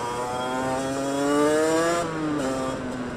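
An Aprilia MX125 motorcycle engine revs with a buzzy, rasping two-stroke tone, climbing steadily in pitch, easing off, then settling, loud and close.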